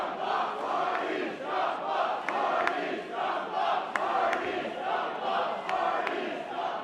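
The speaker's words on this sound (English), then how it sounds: "This Philadelphia crowd has been great all night, showing support" A Philadelphia crowd at a tag-team wrestling match between the Young Bucks and the Hardys chants in a loud, rhythmic pulse, swelling and dipping in steady beats with sharp claps and shouts scattered through the noise.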